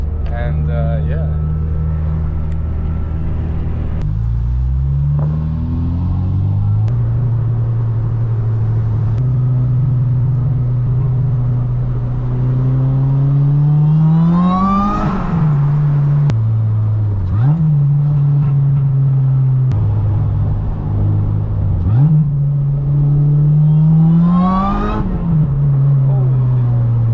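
Loud car engine heard from close by during a night out with Acura RSX cars, revving repeatedly in long rising and falling sweeps over a steady rumbling idle, with people talking now and then.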